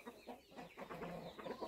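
Naked-neck chickens cluck steadily and close by in a series of short, overlapping calls, with no voices.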